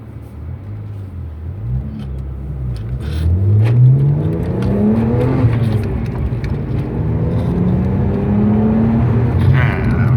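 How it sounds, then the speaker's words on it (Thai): A car pulls away in first gear and the engine revs rise and fall as it accelerates, a loud steady drone close by with no talk over it. "ดูจังหวะถนนโล่งนะครับใส่เกียร์หนึ่งแล้วก็ลากเกียร์ออกไปได้เลย"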